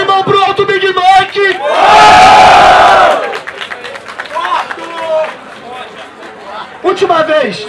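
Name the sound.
crowd cheering and shouting at rap battle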